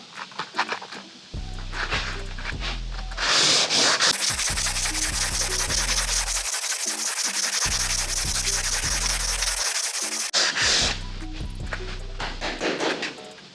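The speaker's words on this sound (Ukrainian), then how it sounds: "Беремо новий абразив і пробуємо на наступній шпатлівці." Sanding of car body filler on a car hood with a fresh abrasive sheet: loud, steady rasping strokes repeat in bursts with brief pauses, close up and alone without talk.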